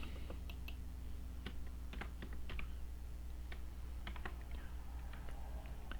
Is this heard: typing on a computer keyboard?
yes